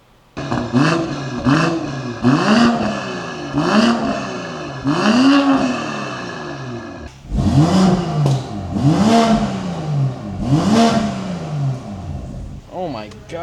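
A loud BMW M340/M440i engine with a catless downpipe and aftermarket exhaust revving repeatedly, each rev climbing and falling in a raspy, aggressive exhaust note, then another series of revs after a short pause.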